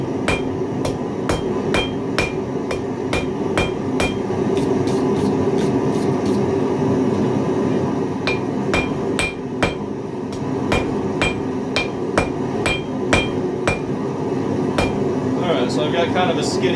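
Blacksmith hammering a hot metal point on the edge of an anvil in a forge, a steady run of sharp ringing hammer blows about twice a second over a constant roaring fire hiss, close and loud.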